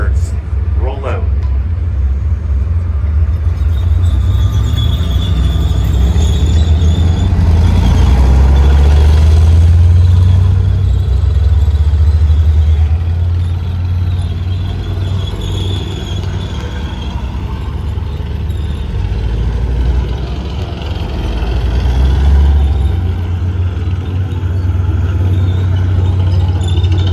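Several Leopard tanks rumble and idle at a regiment museum tank show, their low, heavy engine drone rising and swelling as they roll out, steady and continuous with some distant clatter.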